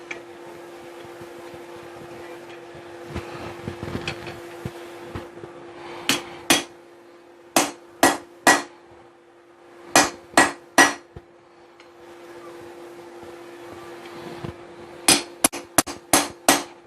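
A hammer drives a small chisel into hot steel while slot jaw tongs are forged. Sharp, ringing metallic strikes come singly and in quick pairs and clusters, loud and close, over a steady background hum.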